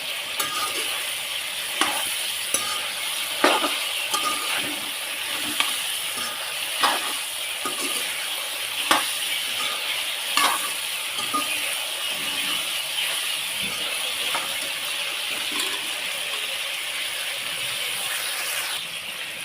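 Vegetables being sautéed in a pan with salt and turmeric, a steady sizzle of frying running throughout with intermittent scraping and stirring clicks from a spatula, close and continuous for the whole stretch.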